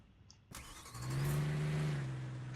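A car engine in the driving game Taxi Boss 3 kicks in after a quiet start and revs up into a steady, rising mid-pitched drone that holds and eases slightly toward the end, fairly quiet overall.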